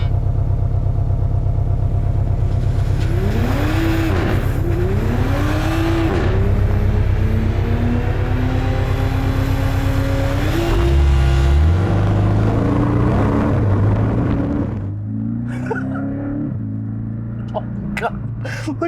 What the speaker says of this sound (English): Are you going to try to do a burnout?